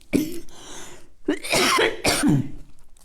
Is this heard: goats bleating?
no